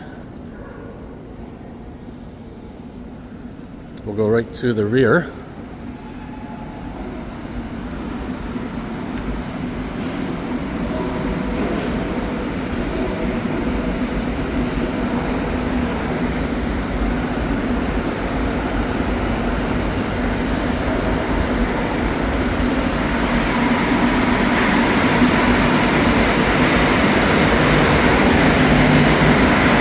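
Montreal STM metro train running on the last service before a transit strike, a steady rolling rumble that swells louder as the train picks up speed, with someone speaking briefly near the start.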